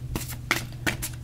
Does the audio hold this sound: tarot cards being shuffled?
yes